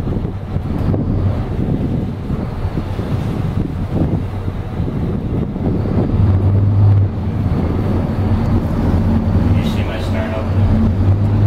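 Steady wind buffeting the microphone while a boat docks on open water, with a low engine hum and lapping waves underneath; a voice is heard briefly in the background.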